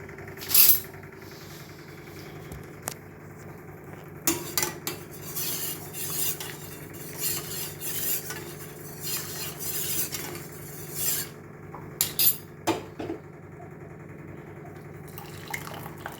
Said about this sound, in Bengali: লিকারটা একটু নাড়িয়ে দিলে ভালো হয় চামচ দিয়ে।